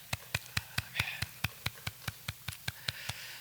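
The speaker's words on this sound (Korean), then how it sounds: "우리 하나님께 영광의 박수 돌립니다" A church congregation claps in worship at an online Friday night prayer meeting, a steady run of about fifteen sharp, even hand claps with no talking.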